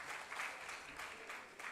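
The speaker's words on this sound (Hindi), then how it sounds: "जोरदार करताली हो जाओ।" Audience applause at a National Sports Day ceremony, a brief, faint, even wash of many hands clapping with no voices over it.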